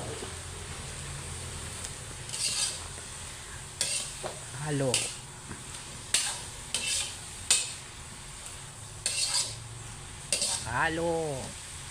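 Sautéed cabbage being stirred in a pan, repeated scraping and clattering strokes of a utensil over a soft background sizzle, with a voice speaking between strokes.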